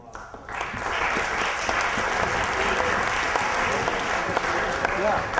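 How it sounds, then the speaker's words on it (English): An audience claps steadily after a talk, a dense sustained round of applause that rises quickly and carries on to the end. "one more round of applause"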